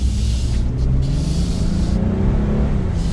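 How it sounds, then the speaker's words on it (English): 2022 Nissan Frontier SV 4x4 pickup with a roughly 300-horsepower engine accelerating under throttle, a steady, low engine drone rising gradually in pitch from inside the cab, with no speech. "But now let's give this a little bit of gas."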